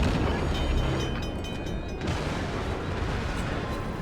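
Incoming naval shell fire in World of Warships, a dense sustained roar of distant booms and rumbling blasts blending into continuous low thunder throughout, with no talk over it.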